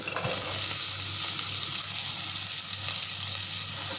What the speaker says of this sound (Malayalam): ഇതൊന്ന് സെറ്റായി കഴിഞ്ഞാൽ എന്ത് ചെയ്യാം നമ്മുടെ സവോള അങ്ങിട്ട് കൊടുക്കാൻ പോവാണ്